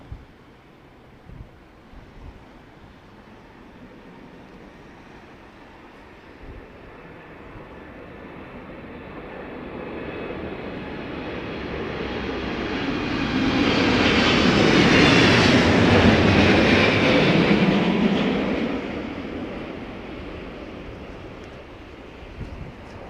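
A Boeing 777 jet on approach at Heathrow in strong storm winds, engine roar building from faint to loud as it passes overhead, then fading away, with gusty wind noise throughout.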